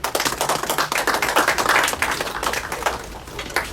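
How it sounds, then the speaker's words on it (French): An audience in a meeting hall gives a short burst of applause for a woman. Brisk, dense clapping runs evenly throughout and fades slightly at the end. "on peut quand même l'applaudir"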